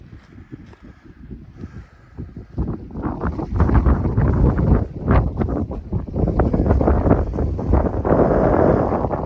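Strong wind gusts buffet the microphone with a deep, rumbling roar that builds and stays loud throughout on the walls of Burg Gräfenstein castle near Merzalben, Germany, with no one speaking.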